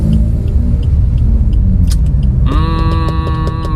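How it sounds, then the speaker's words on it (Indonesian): A Suzuki Ertiga GL car runs with a steady low engine rumble from inside the cabin, then a rising whine with rhythmic ticking comes in midway as the driver shifts into second gear and accelerates. "Oper kedua dengan kopling buka gas."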